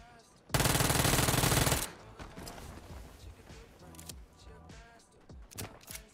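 Machine gun fire in a solo-versus-squads battle royale video game: one loud, dense burst of rapid automatic shots lasting over a second, then quieter scattered clicks and thumps.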